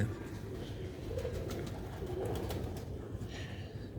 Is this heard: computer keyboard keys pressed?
no